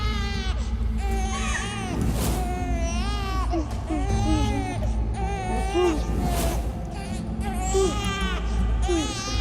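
A baby cries loudly and repeatedly in sobbing, wailing bursts close by, while an adult voice speaks soothingly over it throughout.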